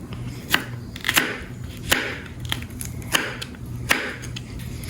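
A knife chops sweet pepper on a cutting board in a home kitchen while arepas are prepared, with about ten crisp, fairly regular strokes in a quiet room and no talking.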